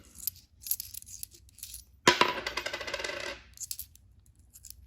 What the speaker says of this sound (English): As I'm dropping some coins, as usual.